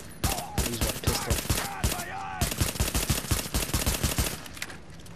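Rapid bursts of pistol gunfire from The Division, a Dark Zone shootout, with dense overlapping shots cracking in quick irregular succession throughout, loud and close.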